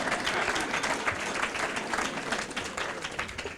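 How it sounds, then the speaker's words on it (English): A room of attendees at a Genesee County WROTB mid-year financial report meeting breaks into dense, steady applause, many hands clapping at once throughout, with faint murmurs underneath. "You can clap on that"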